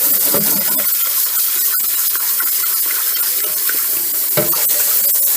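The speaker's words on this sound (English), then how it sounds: "get some hot water here." Hot water runs steadily from a tap into a sink while fabric is rinsed, a loud continuous hissing splash with a couple of brief clinks.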